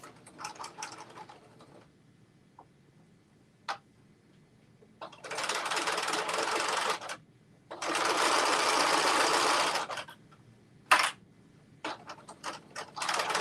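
A sewing machine stitches a tie for a Carmen top at a three-eighths-inch seam allowance, running in two solid bursts of fast, whirring stitching set among quiet gaps and a few light clicks.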